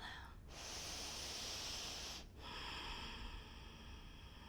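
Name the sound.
deep breath during prenatal yoga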